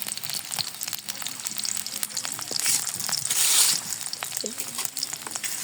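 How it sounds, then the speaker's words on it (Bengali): A large sliced onion frying into crisp beresta in hot oil, a steady loud crackling sizzle with bursts of bubbling and occasional stirring scrapes throughout. "একটি পেঁয়াজ বড় বেরেস্তা করে নিব"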